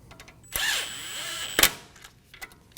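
A power tool zips a brake caliper bolt tight on a 2018-2024 Volkswagen Tiguan in two short whirring bursts, the first about a second long and the second a sharp blip, close up, with quiet clinks between them.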